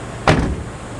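A Nissan S13 car door shuts once with a single dull thud up close, followed by a short fading rumble and quiet background.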